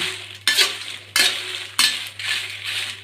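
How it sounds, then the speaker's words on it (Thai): Dry chili flakes are stirred and roasted in a pan over low heat, giving repeated scraping strokes about every two-thirds of a second over a steady soft crackle, close and moderately loud. "ก็คั่วไปให้มัน สุก คั่วให้มันทั่วๆนะคะ"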